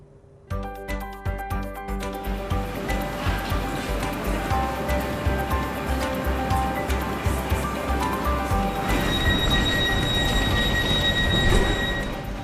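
A new high-speed train runs on upgraded track toward Novi Sad in Serbia, producing a loud, continuous rumble with rapid rhythmic rattling and clatter that grows fuller toward the end.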